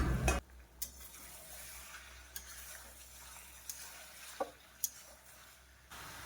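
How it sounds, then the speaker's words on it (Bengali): Meat being stirred and sautéed in a pot, heard as faint, low sizzling with sharp clinks and scrapes of a utensil against the pot every second or so. "মাঝে ঢাকনা খুলে মাংসকে কষে নেব।"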